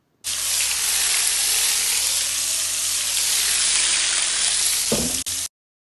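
Hot oil tempering for a tarka biryani hisses in a loud, steady, unbroken sizzle for several seconds, then cuts off abruptly after a brief clatter near the end.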